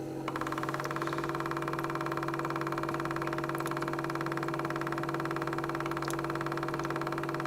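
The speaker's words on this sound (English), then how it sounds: "A volume of buffer will enter the graduated cylinder." A buffer filler pump for myograph and organ bath systems running as buffer flows into a graduated cylinder, a steady droning mechanical hum with constant tones, unbroken throughout and fairly quiet.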